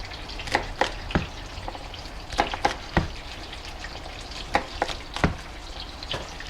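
Food frying slowly over low heat in a pan: a soft, steady sizzle broken by scattered sharp crackles and pops at irregular intervals, close and fairly quiet, with no talking.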